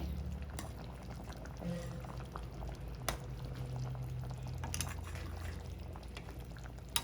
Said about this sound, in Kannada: ಮೊಟ್ಟೆಗಳೆಲ್ಲ ಚೆನ್ನಾಗಿ ಬೇಯ್ತಾ ಇದೆ